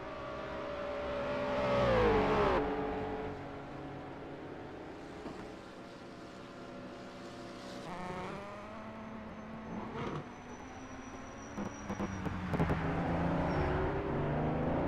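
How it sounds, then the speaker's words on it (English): A Jaguar race car in a historic endurance race at Longford sweeps through a right-hand corner, engine note rising and falling as it passes at moderate distance, with other cars faintly audible, no talk. "Great shot of the Jag going through the right-hander there"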